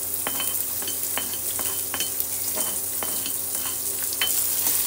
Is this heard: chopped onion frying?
yes